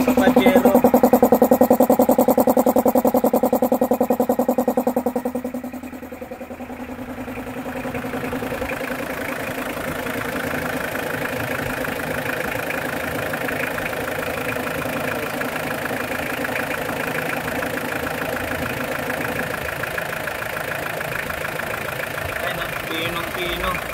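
Mitsubishi Pajero 4D56 turbo diesel engine idling steadily after an overhaul, a close, continuous mechanical clatter and hum that drops slightly in level early on and then holds even, with people talking over it.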